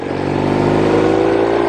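Vintage Norton Atlas 750 motorcycle engine revving, a loud close growl that climbs and holds with a strong rumbling tone, brief and unbroken by voices.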